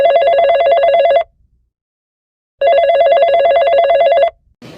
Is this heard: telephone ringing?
yes